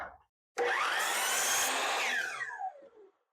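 Saw cutting a 2 1/2 inch wood strip, one loud, sharp burst of blade through wood lasting about two seconds, then spinning down to silence.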